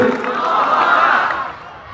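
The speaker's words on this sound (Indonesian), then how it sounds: "Tepuk tangan, takbir." Crowd at an Indonesian pro-Palestine rally responding with a loud collective shout and cheer, swelling then fading over two seconds, a rally-style vocal roar with little distinct clapping.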